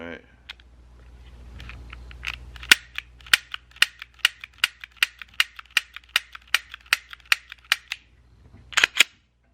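A .45 ACP pistol has its slide racked and is dry fired, giving a run of about fifteen sharp, evenly spaced metallic clicks up close, with a couple of louder snaps at the end and a faint low hum underneath.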